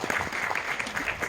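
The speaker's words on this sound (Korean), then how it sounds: "박수 한번 부탁드립니다" Audience at a cinema talk event for a Ryuichi Sakamoto film screening applauds, producing a brief, even wash of clapping that stays steady and moderately distant.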